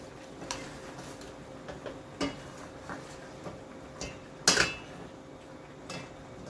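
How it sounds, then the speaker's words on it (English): Jamaican-style brown stew chicken is stirred in a pot, making sparse metallic clinks and knocks of a spoon against the pot's sides, with one louder scraping clatter partway through and no talking. "So let's give it a last stir."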